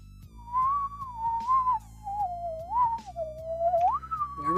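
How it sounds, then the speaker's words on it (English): Someone whistles a wandering, slow tune close up, a single clear pitched line drifting up and down over a soft low hum. "I'm whistling"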